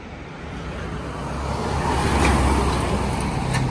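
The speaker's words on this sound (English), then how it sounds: "Here's a single work car come past, or a single car coming into town." A single car passes along an otherwise empty suburban road in New South Wales, Australia, during lockdown; a steady, moderately close broadband road rumble that swells gradually toward the middle of the pass and lingers, with no voices.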